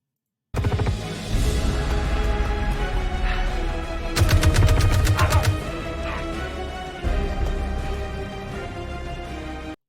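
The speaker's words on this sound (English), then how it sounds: "Okay, grenade being thrown." Gunfire and a grenade explosion in the video game Squadron 42: a burst of shots, then a louder rapid volley mid-clip, followed by further firing, all close and loud.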